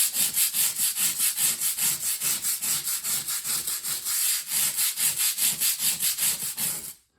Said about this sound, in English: Now I'm going to test out this scrubber and see just the color difference I can get on this.